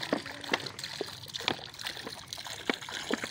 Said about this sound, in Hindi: तो यहाँ पे भी हम पानी डाल देते हैं।